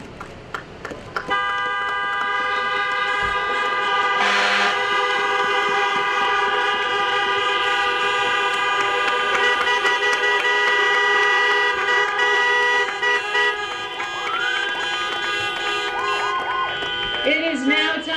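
Many car horns blare together at a 2020 high school graduation, a long, loud, sustained chorus of overlapping tones that runs almost without break for over fifteen seconds.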